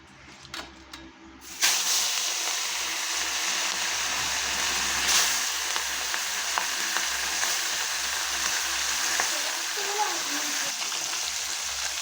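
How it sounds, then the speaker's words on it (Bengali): Small puti fish frying in hot oil: a sudden burst of loud sizzling that settles into a continuous crackling hiss, with faint clinks now and then. "তেল আমার গরম হয়ে গেছে, এখন আমি মাছগুলো ভেজে নেব"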